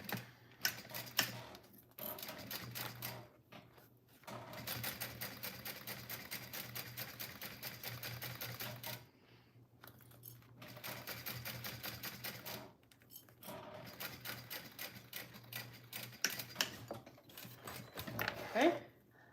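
Quiet sewing machine top stitching the outside of a fabric glasses case, running in three rhythmic, rapid stitching bursts separated by short pauses, heard up close with no talk.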